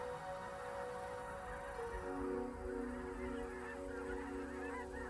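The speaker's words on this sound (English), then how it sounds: "Canada geese are one of the more distinctively marked species." Canada geese honk repeatedly in a loose, overlapping chorus, a flock calling at moderate distance over a quiet outdoor backdrop.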